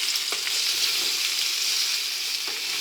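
Zucchini frying in a pan for a zucchini, parmesan and goat cheese clafoutis, a steady close hiss of sizzling with a few faint stirring clicks throughout.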